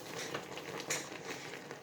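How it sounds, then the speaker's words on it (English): Soft, steady bubbling and popping of thick applesauce simmering in a pot, with faint crackles throughout and no talking. "I can hear it bubbling in there."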